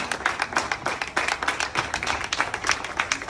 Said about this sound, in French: Et je voudrais vous demander d'applaudir.